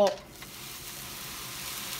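Steady sizzling of food frying in a pan, stirred until golden brown, a soft continuous crackle with faint stirring, fairly close and even throughout.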